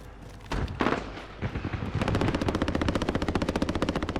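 Rapid gunfire in a video game, a few separate shots first, then a long fast burst of evenly spaced loud cracks, with no talk.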